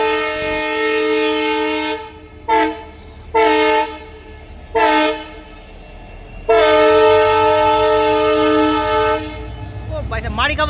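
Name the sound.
Indian Railways train passing with horn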